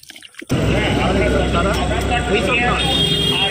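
Water runs steadily into a container with a loud, even rushing after a brief quiet start, continuing to the end.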